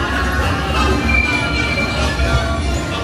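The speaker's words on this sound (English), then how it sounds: "off we go on a train ride." A theme park ride train rolls along with a steady rumbling clatter and faint wheel squeal, with a murmur of voices underneath.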